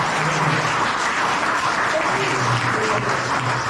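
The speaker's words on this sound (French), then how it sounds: "On acclame le bon Dieu." A church congregation applauding in praise of God fills the room with dense, steady clapping from many hands that keeps going without a break, while faint voices mix into the noise.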